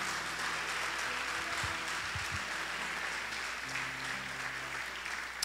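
A church congregation at a conference service applauds, a soft continuous wash of clapping heard from some distance, steady throughout with low hum underneath.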